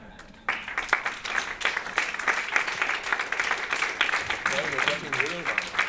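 Audience applause at a lecture on entertainment education starts abruptly after a short quiet moment and continues as a broad wash of clapping, with voices audible beneath it toward the end.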